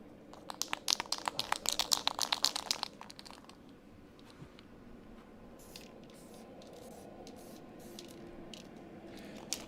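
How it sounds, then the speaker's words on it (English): Weld-through primer sprayed from an aerosol can onto bare car body metal during a crew cab build, a few short hissing bursts up front that fade into quiet workshop background. "give this a quick coat of weld through primer before we weld to the top of it"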